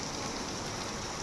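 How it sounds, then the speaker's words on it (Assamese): Heavy morning rain pours steadily outdoors, a dense, even hiss of drops on surfaces with no pauses or voices. "ৰাতিপুৱা ইমান বৰষুণ পৰি আছে বাহিৰত"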